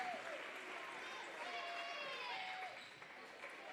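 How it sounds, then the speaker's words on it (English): A crowd at a high school basketball senior night claps steadily, a soft even wash of applause from across the gym, with faint voices underneath and no talk up close. "the crowd gives Wyatt a big round of applause"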